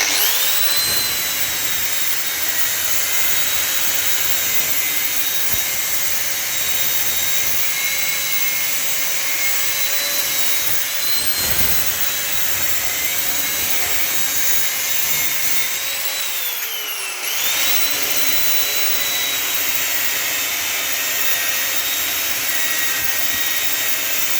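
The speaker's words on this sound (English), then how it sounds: "As I said, I've cut it one side already, so just doing the other side." A power saw runs steadily through scrap brass, a continuous loud high-pitched whine held for the whole stretch with a brief dip where the blade jumps, no talking.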